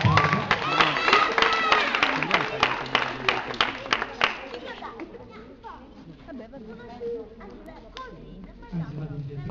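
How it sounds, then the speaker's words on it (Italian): Children and adults at a summer youth camp show clap in a burst of applause, with dense rapid claps fading after a few seconds as chatter and voices carry on over and after it. "Un applauso!"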